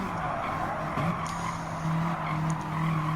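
Subaru WRX Group B rally cars race in Gran Turismo 7 on an Alsace test course, engines droning steadily with tire squeal and skidding, close and sustained.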